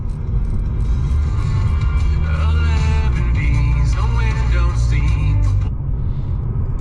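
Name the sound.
car engine while driving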